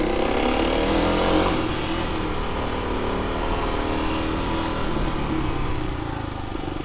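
A pickup-camper truck's engine drones steadily while negotiating a switchback on a mountain road, a loud continuous rumble with a slight rise early on, heard from close by with no voices over it.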